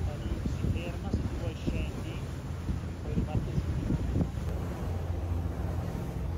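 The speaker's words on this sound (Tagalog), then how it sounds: "Medyo mahangin sa labas pero gora lang tayo sa pag-take ng selfie at video" Steady wind buffeting the microphone outdoors on a moving ferry approaching the Statue of Liberty island in New York, with a low engine rumble beneath and bits of indistinct talk.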